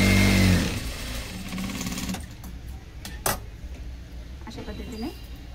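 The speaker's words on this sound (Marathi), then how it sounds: "डबल स्टिच मारून घ्यायची" A sewing machine double-stitching a seam on a blouse, a brief loud mechanical run at the start that trails off, followed by quieter handling, a sharp knock and faint fabric movement.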